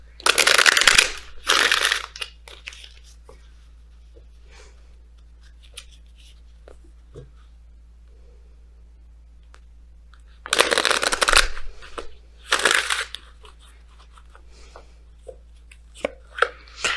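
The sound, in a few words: messenger oracle cards being shuffled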